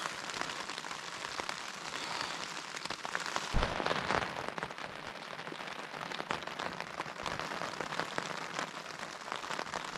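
Steady evening rain patters down at a campsite beside Windfall Lake, a dense, even hiss of drops on surfaces that continues throughout, with one brief louder knock partway through.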